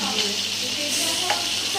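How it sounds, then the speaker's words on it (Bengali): Fish sizzling as it fries in oil in a pan in a home kitchen, a steady, close, continuous crackle with small spitting pops and no talk over it. "আর এই যে মাছ ভাজা হচ্ছে"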